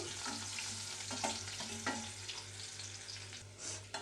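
Sliced onions fry in a pan for Nellore-style pappu pulusu, giving a continuous loud sizzle with occasional stirring scrapes and a steady low hum underneath, no voices.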